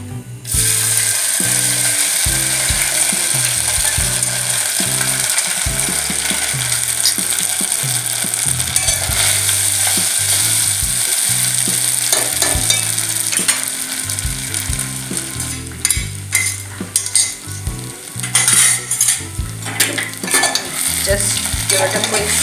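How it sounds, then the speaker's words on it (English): Flattened rice (poha) tipped into hot oil and stirred in a pan, a continuous sizzle under rapid scraping and rattling of the spoon against the metal, loud and close. "Now I'll add the flattened rice."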